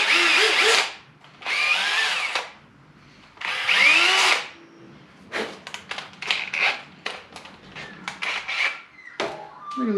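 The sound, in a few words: power drill with Scotch-Brite pad cleaning part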